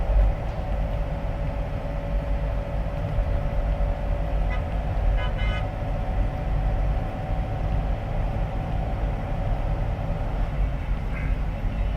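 A 2003–2006 third-generation Mitsubishi Pajero (Montero/Shogun) accelerating as a loud, steady engine drone with a sustained tonal whine, and a few short high chirps partway through.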